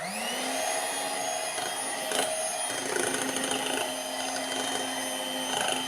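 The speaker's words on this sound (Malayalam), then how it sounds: "നന്നായിട്ടൊന്ന് ബീറ്റ് ചെയ്യാം." Electric hand mixer whirring steadily as it beats red velvet cake batter with food colouring, a continuous high motor whine close by with slight rises in pitch and a few knocks against the bowl.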